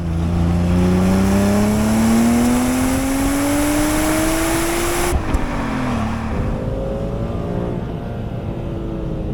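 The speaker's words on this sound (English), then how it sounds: "the front of the car on acceleration, there's so much torque, it just lifts the front of the car" A BMW E34 M5 engine revs hard and climbs in pitch as it accelerates, loud and close, then shifts gear and keeps pulling with a lower, steady roar.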